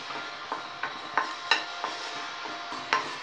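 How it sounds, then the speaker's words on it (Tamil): Curry leaves dry-roasting in a hot pan for a brinjal gravy, heard as a run of light crisp crackles and occasional scraping stirs, close and moderately quiet with no talk. "இப்போ வந்து இந்த கருவேப்பிலையை கொஞ்சம் லைட்டாக அந்த சுடு பாத்திரத்தில் இப்படி போட்டுருங்க"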